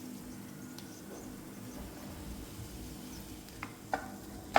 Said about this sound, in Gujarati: આ રીતે હલાવી લઈશું એટલે બધા જ મસાલા મિક્સ થઈ જાય